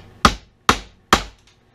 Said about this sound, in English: My copper-headed hammer made on the lathe here.